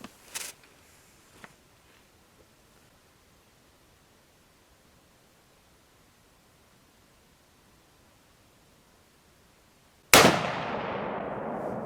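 A single sharp, very loud gunshot cracks on a deer hunt after a long stretch of near silence, followed by a lingering noisy tail, with a few faint knocks at the start.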